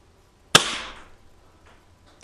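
A Cybergun Colt 1911 airsoft pistol fires one sharp, loud shot at a target, followed by a brief decaying ring and then near silence.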